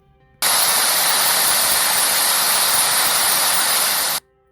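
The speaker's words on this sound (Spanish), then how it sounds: "Es el sonido de los televisores antiguos cuando la gente los dejaba allí en cualquier frecuencia donde no había nada" Loud, steady broadband hiss of an old analog television left on an empty, untuned channel, a continuous wash of static that starts abruptly, holds for about four seconds, then cuts off.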